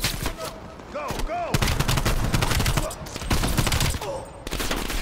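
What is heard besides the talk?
gunfire in Black Ops Cold War video game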